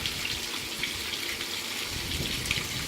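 Water runs steadily from a tap into a plastic water bottle being refilled, a continuous close splashing hiss with no speech.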